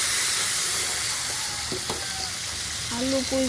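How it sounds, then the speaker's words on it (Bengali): Potatoes, onions and Malabar spinach fry together in a pan with steady broadband sizzling, a few stirring scrapes and utensil clinks near the end, close and continuous. "আলু পুঁই শাক একসঙ্গে ভেজে নেব।"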